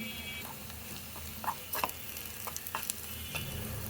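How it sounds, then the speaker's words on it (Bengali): Onion fries in a pan with a soft, even sizzle, broken by repeated clicks and scrapes of a spatula stirring it, close by with no voices. "এই যে আমার পেঁয়াজটা হালকা ভাজা ভাজা হয়ে আসছে"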